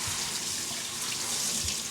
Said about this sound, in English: So I'm going to wash some of these off in cold water.